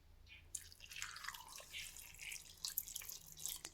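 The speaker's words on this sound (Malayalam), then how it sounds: "എന്നിട്ട് വെള്ളം ഒഴിച്ച് കൊടുക്കാം." Water poured into a cooking pot of beans with salt, a soft steady splashing and dripping trickle heard up close and fairly faint, with no talking.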